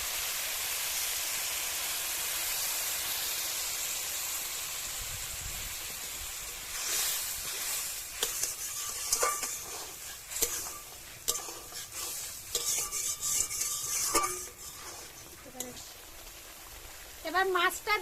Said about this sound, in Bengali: এবার নারকেলের দুধ দিয়ে আর একটু কষিয়ে নেব।